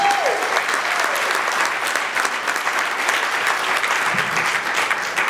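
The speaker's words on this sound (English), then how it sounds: "Give Andrew a round of applause, please" Steady applause from a crowd, sustained clapping filling the whole stretch at an even level, fairly close and dense.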